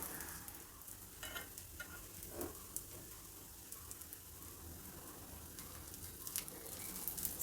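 Fenugreek dosa batter sizzling on a hot pan over raised flame, a steady soft crackling hiss with small pops, close and continuous, no voices.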